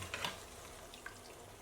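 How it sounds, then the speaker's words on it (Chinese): Leftover dumpling wrapper pieces deep fry slowly in oil over medium-low heat, giving a faint, steady sizzle with a few soft pops, brief and quiet. "我们全程中小火慢炸"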